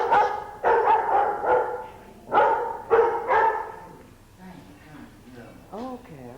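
Several dogs bark in loud, repeated bursts close by, a cluster at the start and another a couple of seconds later, then quieter yips and whimpers as barking fades under a person talking.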